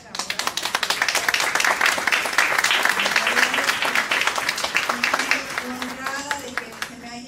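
Audience applause at a Mexican judicial dialogue event, dense clapping from a seated crowd filling the room for about seven seconds, with voices murmuring underneath before it thins out toward the end.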